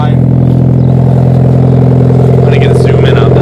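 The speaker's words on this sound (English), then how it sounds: "it's still idling just fine" A Mitsubishi Evo's engine idles in a steady, loud, even rumble, close up and unchanging throughout, with no voices.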